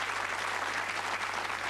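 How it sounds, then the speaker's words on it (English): Studio audience at a British television darts game show clapping for the contestants, a dense, even round of applause that holds steady throughout, with a low hum beneath. "Let's give them a nice warm round of applause."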